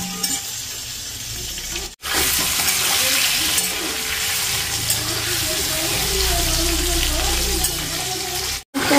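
Meat sizzles and gets stirred in a frying pan on a gas stove, a constant loud hiss with scraping spoon strokes throughout, briefly cut off twice.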